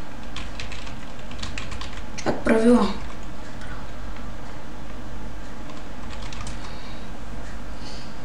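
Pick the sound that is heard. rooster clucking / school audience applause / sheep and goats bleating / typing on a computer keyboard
typing on a computer keyboard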